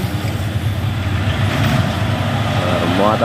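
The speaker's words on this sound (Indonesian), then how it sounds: "truk Fuso oren" A heavily loaded orange Mitsubishi Fuso truck gives off a loud, steady low engine rumble close by, with road and traffic noise around it.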